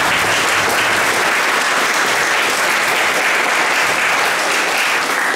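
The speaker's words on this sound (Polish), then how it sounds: "zachęćmy wszystkich solistów oklaskami" Dense, loud applause from an audience at a community patriotic song contest, a continuous wash of clapping for the soloists that holds steady throughout without any talking.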